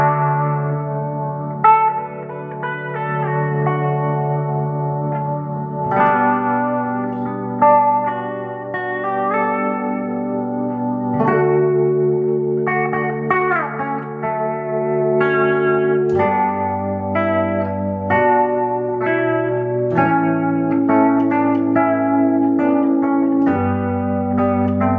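Guitar run through an effects pedal imitating a Mellotron, sustained chords with dry signal mixed in, a steady loud layered wash of tones changing every few seconds, reverberant with no talking.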